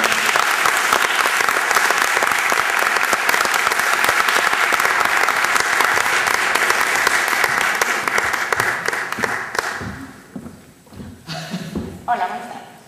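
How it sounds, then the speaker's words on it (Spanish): An audience at a gala presentation of an Asturian film festival gives loud, sustained applause for a woman named to the stage. The applause thins and fades near the end, with a few scattered claps and a voice beginning to speak. "Un aplauso fuerte para Rebeca Iglesias."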